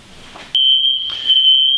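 A loud, piercing, continuous fire alarm tone suddenly starts after a moment of quieter room sound and keeps sounding steadily.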